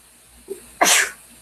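A single sharp sneeze bursts out after a small intake of breath, loud and close in a quiet room.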